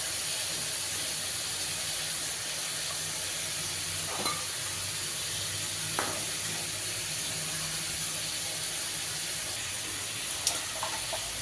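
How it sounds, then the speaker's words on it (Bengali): Onion and garlic frying in hot oil give a steady soft sizzle and hiss throughout, with a few faint clinks and taps of a utensil against the pan and no talking. "পেঁয়াজ রসুন ভাজা হয়ে গেছে, এবার তুলে নেব।"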